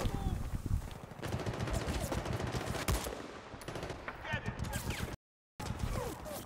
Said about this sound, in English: Wow, an MG or some, there's an MG.